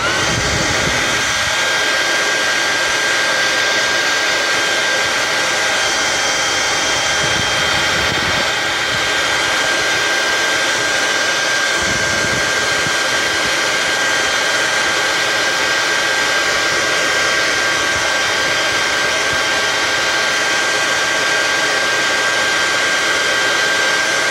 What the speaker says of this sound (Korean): 이렇게 해주시고 다시 드라이기로 오 드라이기도 뜨거워요